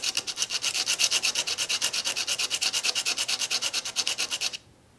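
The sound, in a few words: sanding a wooden ring on a flat surface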